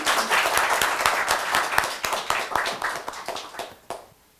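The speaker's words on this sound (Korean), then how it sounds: "큰 박수로 모시기 바랍니다." An audience at a Korea University seminar on biodefense strategy applauds loudly, a dense burst of many hands clapping that fades out over a few seconds.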